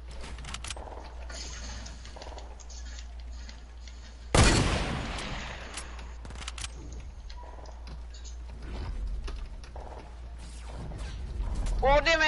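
Sniper gunfire in the Fortnite video game: one sharp loud crack stands out midway over steady game background noise, with scattered quieter shots and mechanical clicks around it.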